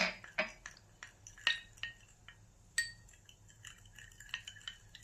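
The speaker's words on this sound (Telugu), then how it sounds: "ఇప్పుడు మనము ఇక్కడ ఏ లంప్స్ లేకుండా కలుపుకోవాలి" Spoon clinks sharply against a bowl in an irregular series of close taps while vanilla custard powder is stirred into milk to remove lumps, with quiet gaps between the strikes.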